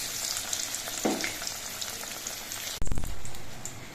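Shapla (water lily) fritters fry in plenty of oil with a close, crackling sizzle, then a sudden loud clatter is followed by a louder, busier burst of frying.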